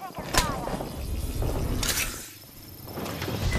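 Gunfire in Apex Legends: sharp shots and bursts crack through a busy game mix, with a loud burst early and another just before two seconds, then a quieter spell before the firing builds again.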